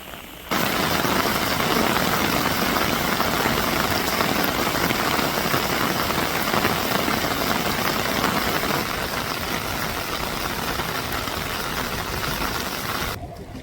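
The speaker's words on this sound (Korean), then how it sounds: "연꽃이 핀 향원정에 깊은 비가 내리고 있습니다." Heavy rain pours steadily onto a lotus pond at Hyangwonjeong pavilion in Gyeongbokgung Palace, Seoul, a dense, loud hiss on water and surfaces that starts abruptly and continues unbroken before cutting off.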